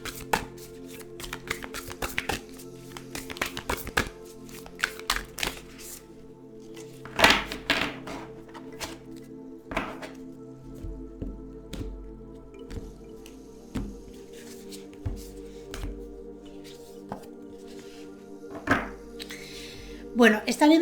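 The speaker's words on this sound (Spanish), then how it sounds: "vamos a barajar este maravilloso oráculo" Oracle cards shuffled by hand, giving soft riffling, slapping and sliding taps in irregular bursts throughout, fairly close and quiet, over a low steady background hum.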